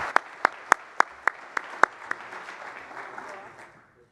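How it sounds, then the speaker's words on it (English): Audience applause after an astronaut keynote at a space research conference luncheon, a burst of sharp claps at first that thins and fades out over a few seconds. "Another round of applause."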